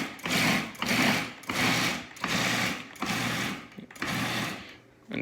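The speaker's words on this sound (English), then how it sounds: "we'll throw our food processor on there and we'll just pulse it a little bit" Food processor pulsing basil pesto ingredients, about five loud whirring bursts of roughly a second each with brief pauses between, close up and with no talking.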